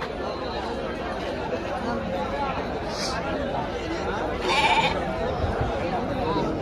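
Rams and goats bleat in a few short calls amid the steady murmur of chatting people at a crowded livestock market, the animal cries rising briefly over the talk.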